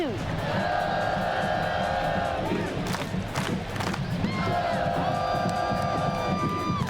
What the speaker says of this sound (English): you might hear the band and the crowd and the students